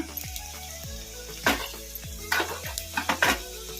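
Cumin seeds hit hot oil while tempering toor dal thili saru, with a soft sizzle and a string of sharp metallic spoon taps and scrapes against the pan, close and fairly quiet.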